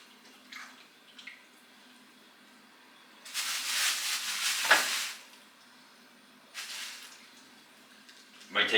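Chicken breasts laid in a single layer fry in a pan, with bursts of loud sizzling that swell and fade twice, and softer sounds between them.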